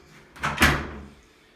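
A single door with an IEI 212i keypad swings open with a brief creak and a soft thud, close by, followed by a short fading room echo.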